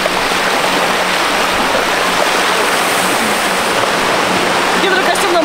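Atlantic Ocean surf breaking on a beach at Portimão, Portugal, a loud, continuous broadband rush of water that fills the whole stretch close by, with a voice talking faintly under it.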